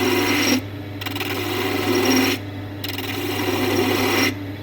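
A woodturning gouge cutting wood on a lathe, producing a steady close rasping scrape in repeated passes, each lasting a second or two and separated by short quieter gaps, over a constant low machine hum.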